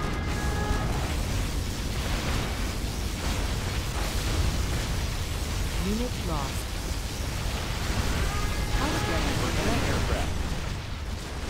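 Particle cannon blast from the USA superweapon in Command & Conquer Generals Zero Hour, a dense continuous rumbling roar with crackling texture, heard alongside brief unit voice lines and short sweeping effects.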